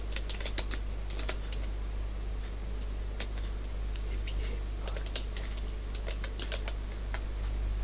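Rapid, irregular keystrokes on a computer keyboard while an address list is entered, clicking steadily for several seconds over a constant low hum, with no talking.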